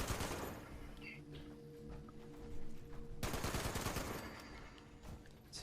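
Gunfire crackles in the video game Fallout 76, with bursts of rapid shots and scattered single reports, fairly faint and continuous over a few seconds.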